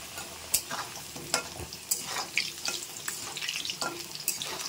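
Potatoes fry in a pan with a low continuous sizzle, punctuated by repeated close scraping and stirring strokes of a spatula, no talking.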